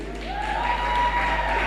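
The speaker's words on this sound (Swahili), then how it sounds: "Wapi makofi ya DJ?" Moderate crowd applause for the DJ at an after-church youth concert, swelling slightly over its short length, mixed with a steady electronic tone.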